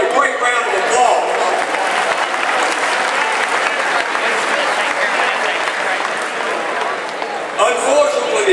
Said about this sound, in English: Let's give Sue a great round of applause.